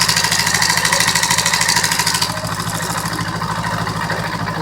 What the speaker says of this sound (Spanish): este es el sonido de cadenilla.